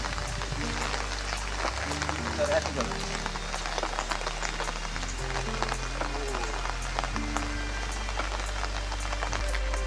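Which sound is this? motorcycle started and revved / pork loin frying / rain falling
rain falling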